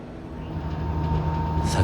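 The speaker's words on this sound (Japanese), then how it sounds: "阿波池田行きの列車へ乗車しました。" Interior of a regional train bound for Awa-Ikeda, riding along a Japanese railway line: a steady rumbling hum of wheels and motor with a faint tonal whine, continuous and near, ending in a brief brighter hiss.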